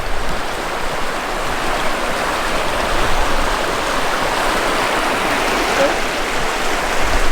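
A river on Dartmoor moor rushes and breaks over rocks, a loud, steady broadband roar of flowing water that continues unbroken from start to finish.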